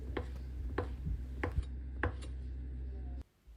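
A knife chops boiled eggs into strips on a cutting board, giving five or six sharp, evenly spaced knocks, close and fairly quiet, followed by a short pause.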